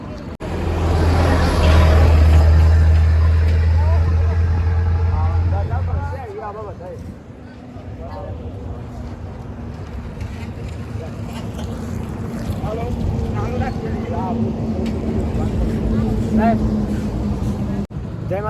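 A motorcycle rides along a highway in Haryana on a long Gujarat-to-Kedarnath bike trip, with strong wind rush and a steady engine drone that eases to a lower hum as the bike slows, with voices talking over it.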